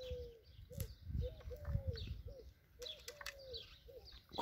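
Several pigeons coo repeatedly in a loft, soft rolling calls recurring over faint rustling, wing flaps and occasional chirps, fairly close.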